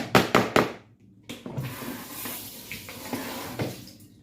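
Kitchen tap water running into a sink while dishes are washed during cooking, with a few sharp clattering knocks at the start followed by a steady splashing flow at close range.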